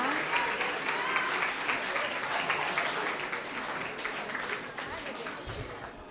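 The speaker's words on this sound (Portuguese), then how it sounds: "quero uma salva de palmas para eles" Audience at an event clapping for the helpers who set up the chairs, a fairly steady round of applause heard at moderate distance with some voices mixed in.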